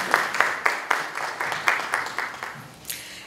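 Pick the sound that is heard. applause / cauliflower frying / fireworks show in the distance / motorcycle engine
applause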